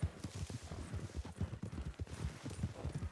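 Horse hooves clip-clop in a steady rhythmic gait on a Western town street in RedM, the Red Dead multiplayer game, with a Cremello horse being ridden; the hoofbeats are continuous and fairly close.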